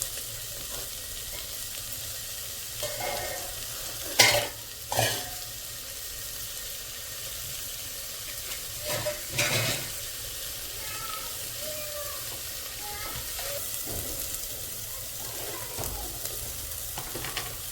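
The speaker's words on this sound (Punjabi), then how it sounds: "ਟਮਾਟਰ ਵੀ ਪਾ ਦਾਂਗੇ ਨਾਲ ਹੀ ਲੋ ਹੁਣ ਇਹਨਾਂ ਨੂੰ ਆਪਾਂ ਭੁੰਨਾਂਗੇ" Tomatoes roasting in a pan make a soft, low sizzle, broken by occasional scrapes and clinks as they are stirred.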